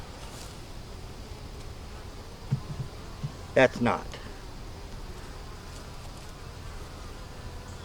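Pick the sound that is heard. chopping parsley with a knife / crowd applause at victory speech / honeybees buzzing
honeybees buzzing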